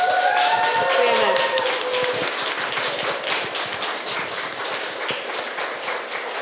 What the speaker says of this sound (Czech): tohle to byl jeden z těch jako největších aplauzů, co jsem kdy jako slyšela na konci přednášky.